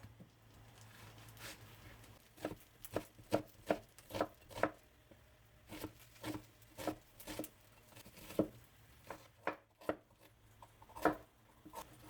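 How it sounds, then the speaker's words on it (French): An onion is sliced on a board with a knife, a series of crisp, distinct chopping taps in uneven bursts, close and clear with no voices. "Je commence par émincer mon oignon."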